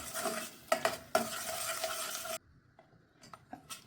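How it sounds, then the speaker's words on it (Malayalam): Ground masala paste is stirred into egg curry in a pan: loud sizzling with sharp spoon scrapes and knocks for over two seconds, then it drops to near quiet with a few faint clinks. "നേരത്തെ അരച്ച് വെച്ച കൂട്ട് ഇതിലേക്ക് ഇട്ട് കൊടുക്കുക. എന്നിട്ട് നല്ലവണ്ണം ഇളക്കിയെടുക്കുക"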